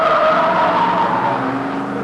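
Holden Monaro and Ford Falcon GTHO race cars at full speed on a circuit, loud engine howl sweeping past close by with tyre scrub, rising and falling in pitch as a car goes through.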